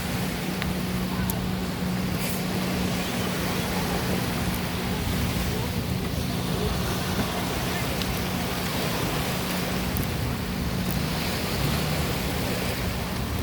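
Surf rolls onto Fort Myers Beach, Florida in a steady wash, with wind buffeting the microphone and occasional voices under the constant noise.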